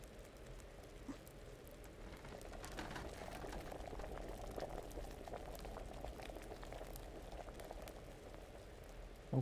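Liquid bubbles at a rolling boil during alchemy in the video game Kingdom Come, a continuous soft gurgling and popping that stays steady and fairly quiet throughout with no talking.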